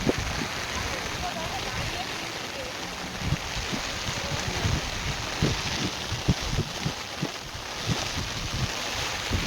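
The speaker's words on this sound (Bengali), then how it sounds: "বৃষ্টিটা জোরে চলে এলো।" Heavy rain pours in a dense, steady roar, with scattered thumps and splashes, and faint voices beneath it.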